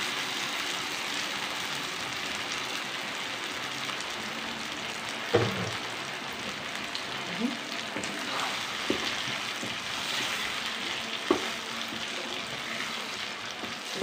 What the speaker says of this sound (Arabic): دي البصله كده اتحمرت، انا مش عايزاها اكتر من كده لانه محشي. حط عليها الطماطم.